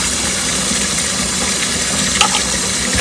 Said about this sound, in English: I'm just going to run a little bit more water